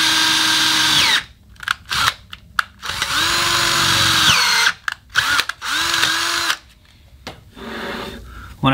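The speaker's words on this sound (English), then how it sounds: "I'm drilling when I come to the bottom." A power drill runs loudly in bursts, its motor whining and grinding through a cracked cast iron cylinder head, with short pauses and changes in pitch as it bites and releases.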